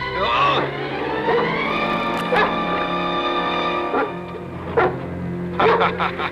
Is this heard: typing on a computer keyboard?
no